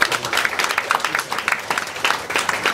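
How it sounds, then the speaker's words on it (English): An audience at a breast cancer registry symposium claps in a sustained round of applause, dense overlapping hand claps filling the room at an even level with no talk. "So let's give them a round of applause."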